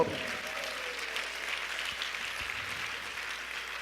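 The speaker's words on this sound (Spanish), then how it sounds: "Dale un aplauso fuerte al Señor" A church congregation gives sustained applause to the Lord, a steady, moderately loud patter of many hands clapping that continues evenly through the whole stretch.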